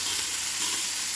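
Small fish sizzling in hot mustard oil on a tawa, a brief continuous frying hiss, close and steady.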